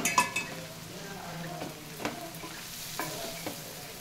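Boiled egg noodles with masala are stir-fried in a pan, with a low sizzle running underneath and a few scraping, clinking strokes of a utensil against the pan spaced about half a second apart.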